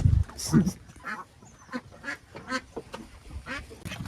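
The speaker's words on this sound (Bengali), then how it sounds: "গাদাখানি হাঁস আছে এর ভিতরে" Several ducks quack in short bursts close by at a village market in the Sundarbans, with a voice or two talking among them.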